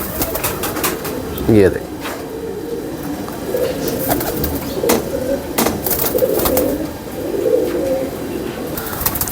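Pigeons coo softly in repeated low murmurs among kept fancy birds, with a brief flutter of wings near the start and someone talking over them.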